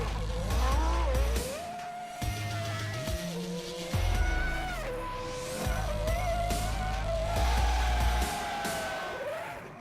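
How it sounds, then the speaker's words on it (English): A Formula 1 racing car engine in India, a loud, high-pitched whine that rises and falls as it revs, with a deep thumping pulse underneath throughout. "There is nothing quite like the awesome power and sound of an F1 car"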